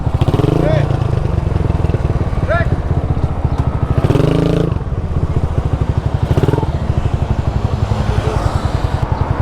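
A motorcycle engine idles and putters steadily close by, with a rhythmic, chugging exhaust pulse throughout and brief revs now and then.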